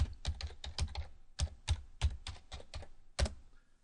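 A password is typed on a computer keyboard: a quick run of crisp, close key clicks in short bursts with brief pauses, faint and alone without speech.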